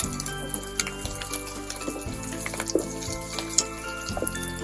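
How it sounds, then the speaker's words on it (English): Chopped onions sweating in a pan as the base for a vegan Thai eggplant curry, giving a steady close sizzle with a low recurring hum and small clinks of stirring throughout, no voices. "Now let the onions, they don't have to get brown, but we just want them to sweat."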